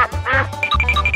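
A cartoon-style duck quacks several times in quick succession, close and loud, with bright nasal calls over a low hum.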